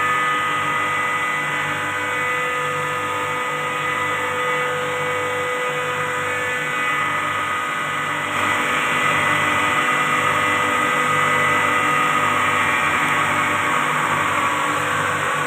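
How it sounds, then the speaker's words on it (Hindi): A screw compressor on a water-cooled chiller runs steadily, a loud, dense mechanical whine and hiss with a constant low hum, continuous and unchanging throughout. "ये स्क्रू कंप्रेसर है।"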